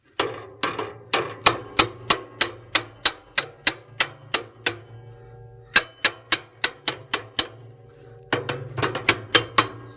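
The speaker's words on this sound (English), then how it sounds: "the other thing you can do is grab a hammer" Repeated sharp hammer strikes in quick bursts during a stove repair, close and loud, with short pauses between runs of blows over a low steady hum.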